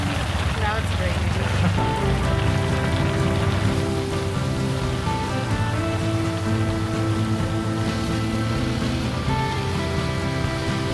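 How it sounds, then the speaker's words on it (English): Rain falls steadily on a street in Chennai, India, a broad constant hiss of drops on surfaces with faint voices and tonal sounds mixed in behind. "Now it's raining."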